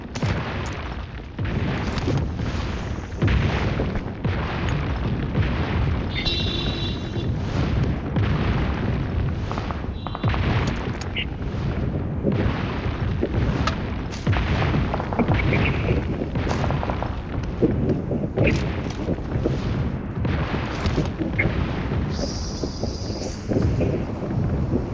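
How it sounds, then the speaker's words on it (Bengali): Gunfire and explosive booms from a PUBG Mobile match, bursts of shots and blasts recurring irregularly across a steady noisy bed, loud and close with no talk. "লোক তো ওই তো গুলি করছে"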